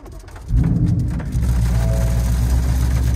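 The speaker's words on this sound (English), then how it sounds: "it's pouring currently" Heavy rain pours steadily on a 2019 Ford Mustang GT in wet weather, a dense continuous roar with a deep low rumble, loud and close, with no talking.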